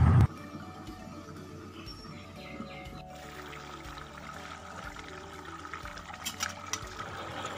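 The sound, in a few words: hot water poured into cooking mutton curry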